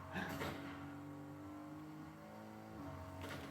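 A car engine in a video game revs and whirs steadily, a moderately loud sustained drone that shifts pitch near the end, with no talk over it.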